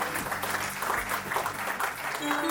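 Audience at a book launch applauding, a steady wash of clapping filling the room at moderate level with a faint voice underneath.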